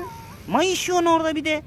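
A cat in a park gives one short, close meow that rises and falls, with a person talking over and after it.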